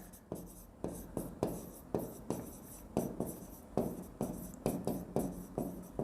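Chalk or marker writing on a board during an accounting class, a steady run of short scratchy strokes repeating in quick rhythm, close and clear with no talking over it.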